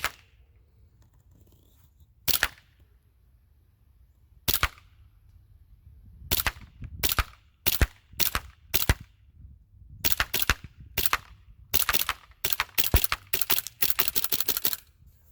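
A Desert Eagle CO2 airsoft pistol fires test shots on a range: two isolated sharp cracks, then a run of evenly spaced pops and a faster final volley, loud and close with no talk.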